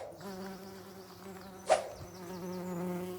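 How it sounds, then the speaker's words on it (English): Bees buzz close by in a steady, wavering hum, with a brief sharp knock partway through. "The bloody bugs everywhere."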